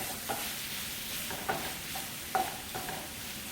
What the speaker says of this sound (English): So stir it until it's well cooked